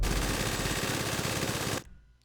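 Sustained minigun fire in GTA V's Rockstar Editor, a dense, loud, continuous roar of rapid shots lasting nearly two seconds before cutting off abruptly into a fading tail.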